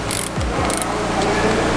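A ratchet wrench with a 12mm socket loosens the alternator belt tensioner on a 2017 Subaru WRX STI. It gives a few quick, close clicking pawl strokes and a short mechanical rattle, loud in a quiet garage.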